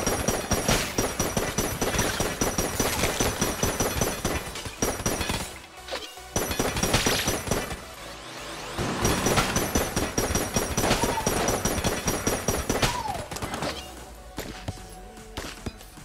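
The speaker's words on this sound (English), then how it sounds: "So many more bullets flying now." Dense, continuous bullet fire and crashing impacts from the Enter the Gungeon dungeon shooter, loud and busy almost throughout, with a brief drop near the middle and a thinner stretch toward the end.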